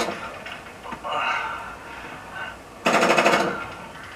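Gunfire from the video game The Evil Within 2 fights zombies: several bursts of rapid shots, the loudest a dense rattling volley near the end, heard alongside game sounds.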